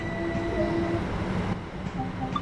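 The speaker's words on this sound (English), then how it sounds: "Reduce the power and allow the train to coast." Steady rumble of a train coasting under reduced power in Train Sim World 2020, a continuous rolling drone with faint tonal whines and no voices.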